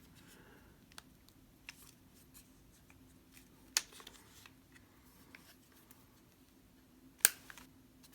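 Small handling clicks and rustles lead up to a Magpul 12-round magazine being pushed into a Glock 26, with one sharp latching click near the start and another crisp snap toward the end, both close and quiet.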